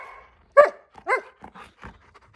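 A husky gives a few short, high whining yelps and soft barks, scattered bursts with quiet gaps between them, close and fairly loud.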